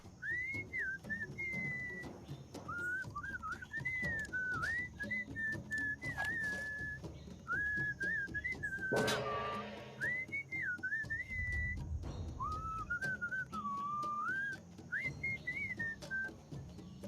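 Looping melodic whistling tune from the video game Sam & Max: Beyond Time and Space, a series of bright, wavering phrases repeated steadily with short gaps, with a brief noisy burst partway through.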